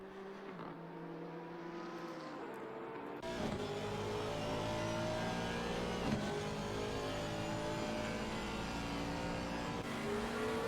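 A GT3 race car engine revs and drones steadily through the slow hairpin at Imola during an endurance race, with a loud, sustained mechanical note and no speech.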